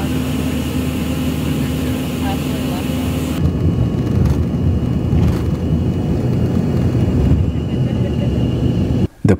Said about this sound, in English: The plane taxied down the runway, picking up speed as we headed towards the sky.